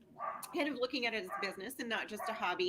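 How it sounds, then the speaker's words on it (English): An excited dog barks and yips in the background, under someone talking steadily in the foreground. "I'm really sorry that my dog is very excited in the background."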